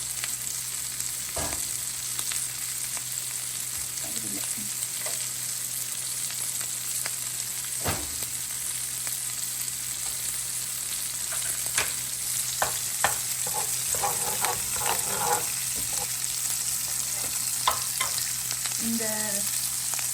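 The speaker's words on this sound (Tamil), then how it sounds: "ஃப்ரைட் ரைஸுக்கு நாங்கள் பட்டர் போட்டு தான் நான் பிரட்டுறேன்" Butter sizzles steadily in a pan as pineapple shrimp fried rice is stir-fried, with scattered scrapes and clatters from stirring over the constant frying hiss; no one speaks.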